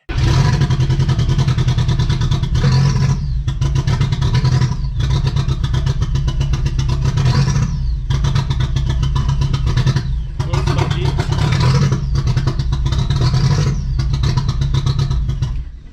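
A VW Golf 3 with a swapped 1.8T engine runs close and loud, its rumble holding steady while the revs rise and fall in several short pulls throughout.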